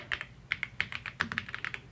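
Keys clack rapidly and unevenly on a Redragon K687 Penumbra Pro aluminum mechanical gaming keyboard, each press a crisp, close tap in a quick burst of typing.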